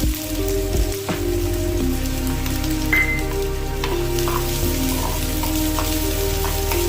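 Onion and green chili frying in hot oil in a pan, giving a steady, close sizzle with a continuous crackling hiss and a few faint clatters throughout.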